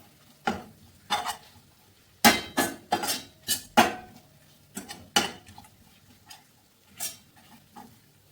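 A spoon scrapes and clanks against a pan while Kerala-style chicken thoran masala with garam masala and pepper powder is sautéed, with a dozen or so sharp metallic strokes in uneven bursts over a faint sizzle.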